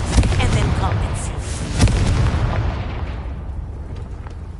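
Confringo fire spell explosions in Hogwarts Legacy, a loud rolling blast with booming low rumble and crackling bursts, a second thump near two seconds, then a fading tail, with a voice speaking under it.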